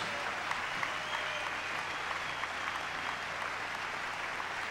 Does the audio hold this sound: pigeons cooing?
no